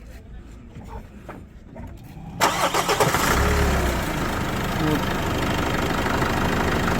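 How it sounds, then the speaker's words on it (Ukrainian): A minibus engine cranks and catches, then settles into a steady, fairly loud, clean-running idle; a person says a brief word before it starts. "Чисто працює двигун, бачите, каток немає."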